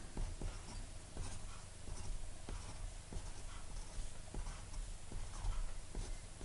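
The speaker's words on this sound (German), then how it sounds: "Dann mache ich mal als erstes wieder eine Skizze." A pen sketches on paper for a geometry exercise, giving soft scratchy strokes with small taps and pauses between them, quiet and close, with no talk.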